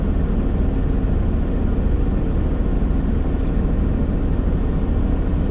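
A car drives along a street parallel to the Konyaaltı seafront in Antalya, its steady engine and road rumble filling the cabin at an even level throughout, with no talking.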